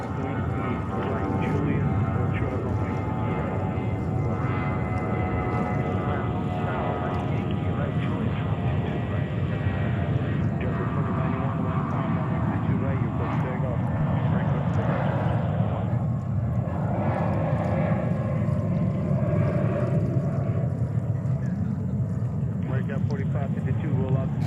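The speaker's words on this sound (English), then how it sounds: "let's see what this Qantas 747 is doing" Qantas Atlas Boeing 747 jet at JFK airport in New York, a steady broad roar of engines running throughout, with someone talking over it.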